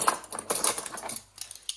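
Small child-size metal cutlery is picked up and handled in a kitchen, producing a quick cluster of light clinks and clatters that thin out toward the end, close and fairly loud, with no talk.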